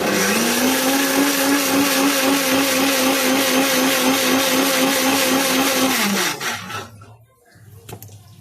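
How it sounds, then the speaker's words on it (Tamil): A kitchen mixer grinder (mixie) whirs loudly with a steady motor drone for about six seconds, then winds down and stops, leaving a few faint knocks and rustles afterward. "ஒரு நிமிஷம் மிக்சி போட்டுக்கிறேன்"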